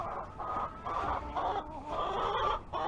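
Hens cluck in a coop built under a backyard deck, a run of close, repeated clucks and murmurs throughout, with no talk over them.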